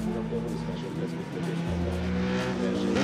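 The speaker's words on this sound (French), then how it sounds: "devant son frère Philippe qui effectue une première saison au volant de son incroyable Lola T600" A Lola T600 race car engine runs steadily and loudly throughout, its sustained tone shifting pitch partway through as the revs change.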